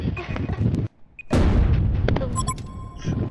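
A heavy video-game explosion booms loudly after a brief lull, set amid dense gunfire-like blasts and crackling effects in an online shooter match, with voices shouting faintly in the mix.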